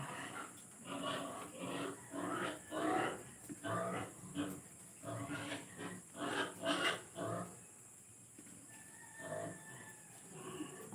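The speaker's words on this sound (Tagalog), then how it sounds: "Ang ingay ng babuyan dito sa kapitbahay namin." A neighbor's pigpen in Albay, Philippines, with many pigs grunting and squealing in uneven overlapping bursts, moderately distant and fairly faint, continuing throughout.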